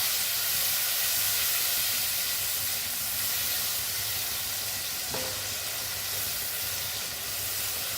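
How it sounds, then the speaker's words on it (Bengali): Masala with turmeric, sugar and a splash of water sautés in a pan for a pointed gourd (potol) dish, making a steady, loud sizzling hiss that fills the whole stretch, with one brief clink midway. "এবার ভালো করে মশলাটা কষিয়ে নেব।"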